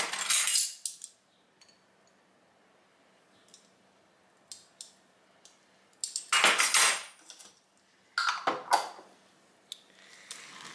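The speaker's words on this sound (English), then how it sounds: "we're just gonna stir it until it's all nice and melted and smooth" A utensil stirs a cappuccino fudge mixture of melting white chocolate chips in a pot, with sharp scraping and clinking bursts separated by near silence, close and fairly loud.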